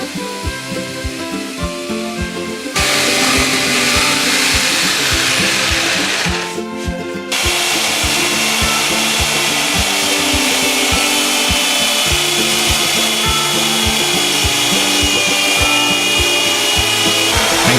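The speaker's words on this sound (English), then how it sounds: "so the hatch fits, before I cut through." Power tool cutting through wood for a hatch while building a catamaran, a loud, close, continuous buzzing grind with a short dip in the middle before it resumes steadily.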